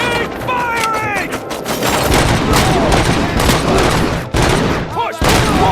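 Dense, sustained gunfire during a bank robbery shootout in the video game RoboCop: Rogue City, loud overlapping bursts with synthetic electronic warbles and a voice briefly shouting over the din.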